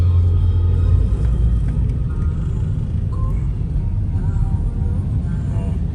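A Honda Civic sits in heavy traffic on a long drive from Laguna to Bataan, its engine a steady low rumble inside the cabin with the hum of surrounding vehicles and occasional voices.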